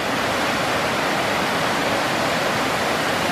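The Go Lai waterfall in Mai Chau, Vietnam roars as a steady, dense rush of falling water, loud and unbroken throughout with no voices.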